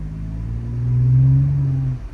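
A 2023 Toyota Tacoma TRD Pro pickup truck pulls up slowly: a steady, low engine rumble swells in the middle as it gets closer, then eases off near the end, with no talk over it.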